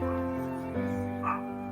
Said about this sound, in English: My dog is even upset. Listen to this.